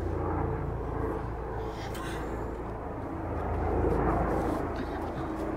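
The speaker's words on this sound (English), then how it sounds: "It's only a bloody helicopter." Helicopter droning overhead near an outdoor council protest, a steady low rumble that swells slightly toward the end, continuous and moderately loud with no talk in the clip.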